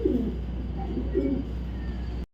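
A racing pigeon coos in a few soft, low, rolling bursts close by, over a steady low background hum.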